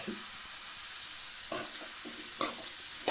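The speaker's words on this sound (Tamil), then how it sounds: "இதை வந்து நல்லா கிளறி விட்டுறலாம்" Chicken masala with rock salt cooks on low heat in a pan. Under a steady sizzle, a spoon stirs it in a few distinct, rhythmic scraping strokes.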